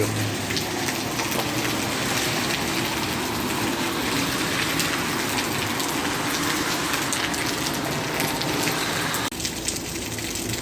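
Heavy downpour drumming steadily during a bicycle tour of Turkey, a dense, continuous hiss of rain on surfaces with no let-up, loud and close throughout.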